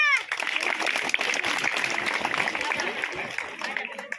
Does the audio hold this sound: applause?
yes